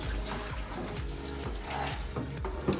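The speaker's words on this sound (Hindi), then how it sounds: "थोड़ा पानी डाल दो" Water poured into a pot of dal fry in a home kitchen, a steady splashing rush that runs without a break for about three seconds, moderately close and without talk.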